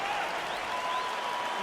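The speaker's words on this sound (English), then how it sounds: "crowd getting excited as this fight gets underway" A virtual arena crowd in the UFC 4 video game roars and applauds steadily as a fight begins, a dense continuous wash of cheering with no clear peaks, moderately loud and alone.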